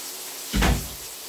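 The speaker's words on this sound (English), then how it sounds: "I'm going to close the door in this house" A house door closing in a kitchen: a single soft thud with a brief low rumble over steady background hiss, near and alone with no talk.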